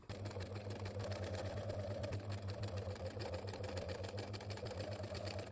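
A sewing machine stitches a zipper onto a sweater along a fold line, giving a continuous, even motorised whirr with a fast needle pulse, close but fairly quiet, with no talking.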